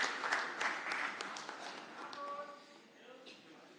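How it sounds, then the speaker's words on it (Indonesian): A crowd applauds at an Indonesian political declaration for Ganjar Pranowo and Mahfud MD, with scattered claps that fade over a few seconds and a brief high whistle-like tone near the end, fairly distant and quiet. "Kita berikan tepuk tangan yang meriah buat Pak Ganjar Pranowo dan Prof."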